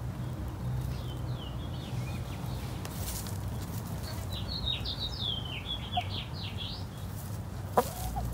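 Chickens cluck softly in the background over a steady outdoor hum, with higher bird chirps scattered throughout and a sharp tick near the end.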